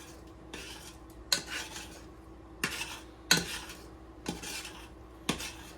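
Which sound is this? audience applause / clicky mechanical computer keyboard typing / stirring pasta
stirring pasta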